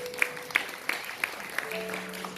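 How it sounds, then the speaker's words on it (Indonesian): A church congregation at a Pentecostal service gives a short, sparse round of applause: a handful of distinct, spaced claps over a soft sustained tone in the room. "kita berikan tepuk tangan buat Tuhan Yesus"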